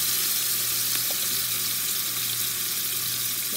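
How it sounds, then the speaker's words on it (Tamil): Tomatoes and onions sauté in hot oil for a brinjal and drumstick tamarind kuzhambu, a steady close sizzle and crackle with no talking. "இதில் வந்து தக்காளி, வெங்காயம், தக்காளி நல்லா வதங்கணும்."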